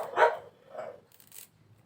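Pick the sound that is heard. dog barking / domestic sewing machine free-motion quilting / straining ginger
dog barking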